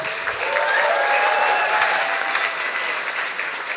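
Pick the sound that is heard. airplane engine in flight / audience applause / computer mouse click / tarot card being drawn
audience applause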